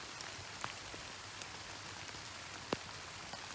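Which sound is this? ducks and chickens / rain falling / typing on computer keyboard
rain falling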